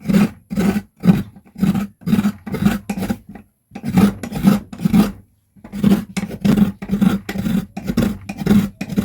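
Coconut grated by hand, rhythmic rasping scrapes in regular bursts, each stroke close and distinct, with brief pauses between sets and no talking.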